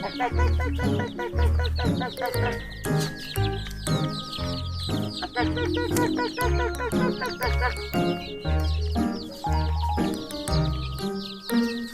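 Black chickens cluck steadily at close range while being fed cut leucaena tops and young banana stalk, with a person talking and calling to them over the flock's noise.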